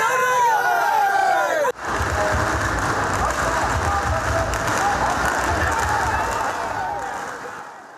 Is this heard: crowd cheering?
yes